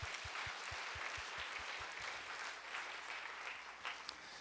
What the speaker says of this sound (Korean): 우리 박수로 하는 경험 드리겠습니다.